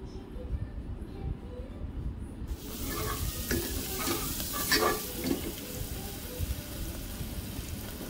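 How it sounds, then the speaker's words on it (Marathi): Khandeshi masala khichdi with fresh coriander stirred in a frying pan: a steady close sizzle with scraping spoon strokes over a low background hum, growing busier partway through, with no talking. "थोडी कोथिंबीर टाकून घेऊया। छान असं मिक्स करून घेऊयात।"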